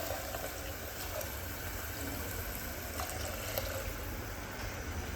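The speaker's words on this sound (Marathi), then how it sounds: "तर यामध्ये आपल्याला पाणी घालायचे" Water pours steadily into a pressure cooker of sautéed soaked peas for a Marathi-style pea curry, a continuous broadband splashing and rushing that stays even in level throughout, with no talk.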